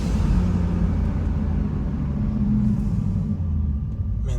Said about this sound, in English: So you guys can kind of hear the intake